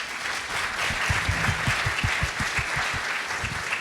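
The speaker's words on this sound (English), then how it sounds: "huge hand of applause for all of our speakers." An audience at a conference panel on digital innovation applauding its speakers, a dense burst of clapping that holds steady throughout at close range.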